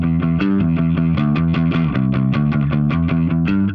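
A bass guitar runs through an amp simulator with a screamer distortion pedal and plays a quick, even run of picked notes, gritty and close, with no voices.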